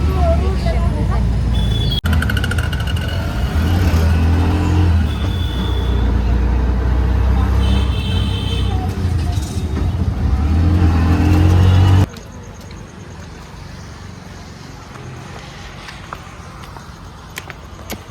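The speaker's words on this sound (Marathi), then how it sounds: "आम्ही चाललोय रिक्षामध्ये." Ride inside an auto rickshaw on a family trip out to dinner: a close, rumbling small engine and road noise that suddenly drops to a quieter hum near the end, with people talking over it.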